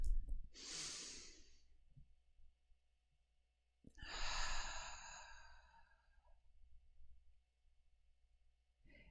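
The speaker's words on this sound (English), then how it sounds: "I invite you to take a deep breath with me." A slow, deep inhale followed after a pause by a long, audible sighing exhale, close and breathy with quiet gaps between.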